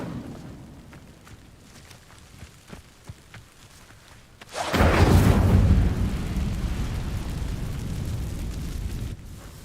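In the video game Hogwarts Legacy, an Incendio fire spell ignites dry vines: quiet ambience gives way to a sudden loud whooshing burst of flame that then settles into a sustained roaring, crackling burn.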